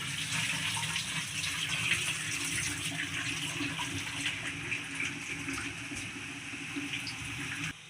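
Water comes to a boil in a pot for veg pulao, giving a continuous, close bubbling rush that holds at an even level throughout without pauses or voices.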